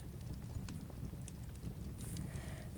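Horse hooves clip-clopping in the Roblox game Dead Rails, a steady rapid gallop of low thudding beats running throughout at moderate loudness with faint wind-like hiss.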